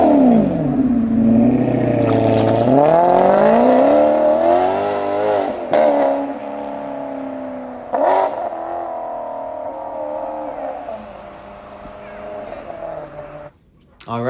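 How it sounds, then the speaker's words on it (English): A Ferrari V8 revs loud and close, its pitch sweeping up and down in repeated climbs and drops, with a few sharp pops and gaps near the end. "just take a listen to that V8 so we can be reminded of just how good that Ferrari engine"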